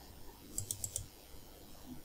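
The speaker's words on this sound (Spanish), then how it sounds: "Si le doy clic," A handful of quick, light clicks from a computer mouse come close together in a quiet room, followed by near silence.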